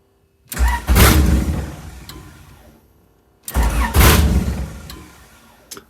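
Two separate attempts to start a car engine with loose headers and no idle air control valve: each is a cranking burst that catches into a rough roar, then sputters and dies over a couple of seconds.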